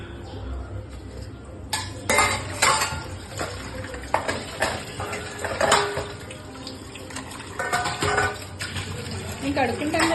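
Dishes being washed at a sink, with running tap water, clinking pots and utensils in irregular bursts, fairly close, while people converse nearby.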